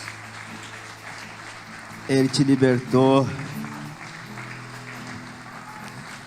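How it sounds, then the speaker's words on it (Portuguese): A church congregation breaks into a short round of applause that lasts about a second while the preacher keeps speaking over it. Before and after, only his voice is heard. "Dá uma salva de palmas para Ele"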